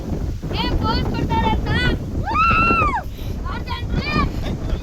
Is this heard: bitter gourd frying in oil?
no